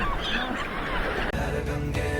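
Birds honk and call repeatedly over a noisy outdoor riverside background at early morning on the Varanasi ghats, goose-like cries rising and falling, fairly close.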